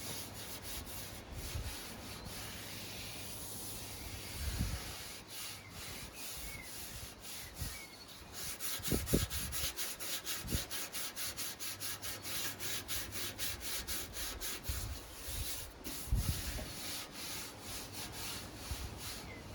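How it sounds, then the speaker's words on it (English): Sandpaper of 80 grit rasps by hand against a Sovereign lawn mower's body in quiet, repeated strokes. A few louder scrubbing bursts stand out over close, continuous rubbing. "get the sandpaper. I think this is 80 grit."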